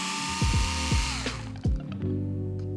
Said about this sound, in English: I'm going to use a 2mm hex driver, starting with the upper outer camber link.